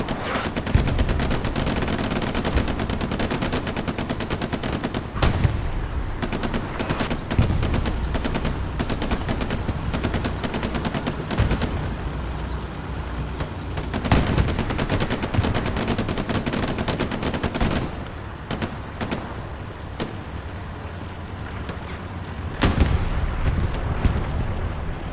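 Constant heavy gunfire and machine-gun bursts in the WWII shooter Hell Let Loose, including a flamethrower, rattling loud and nearly continuous through a tournament match on the Sainte-Marie map with only brief lulls.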